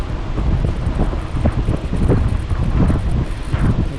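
Strong wind blows outdoors at Upper Seletar Reservoir in Singapore. The gusts roar steadily across the microphone with a low rumbling buffet and no clear talk.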